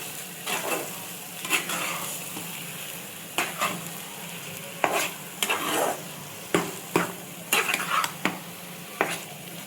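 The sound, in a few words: stirring mashed colocasia in a frying pan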